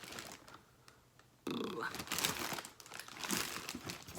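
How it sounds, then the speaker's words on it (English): Rustling and crinkling of packaging while rummaging through a box, quiet at first, then a burst of close, busy crackling and shuffling that continues irregularly. "Sorry for the rustling"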